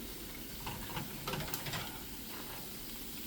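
Bacon strips frying in their own hot grease in a pan, a steady soft sizzle and hiss with faint crackles and a few brief louder pops near the middle.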